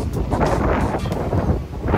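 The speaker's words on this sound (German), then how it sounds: "Ihr hört es auf jeden Fall. Der Wind," Morning wind outdoors on Gran Canaria, buffeting the microphone with a steady, gusty rumble and rushing noise throughout, with no voices.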